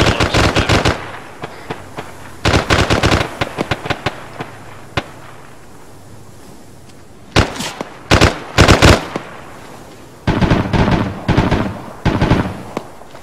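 Loud, rapid bursts of machine gun fire in a video game come in several separate volleys with short gaps between them, and no one speaks.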